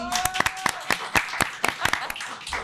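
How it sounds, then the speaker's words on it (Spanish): Scattered hand claps from a small group, about a dozen sharp separate claps spread unevenly over a few seconds, fairly close and moderately loud. A voice is speaking over them near the start. "¡aplauso, manada! Tacatacán."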